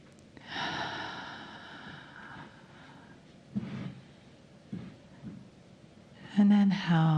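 Slow, audible breaths are drawn in and let out during a guided meditation, close and soft, with a few sharper inhales spaced out over several seconds.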